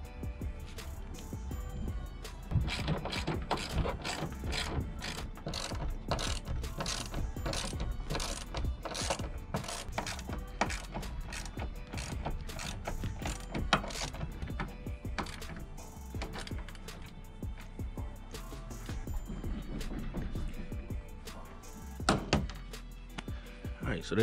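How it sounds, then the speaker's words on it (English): A ratchet clicks in quick, repeated bursts while bolts are tightened on a homemade Livescope pole mount, with occasional knocks and thunks of metal parts, close and fairly loud. "I'm not tightening it all the way down because I know I might have to adjust them a little bit."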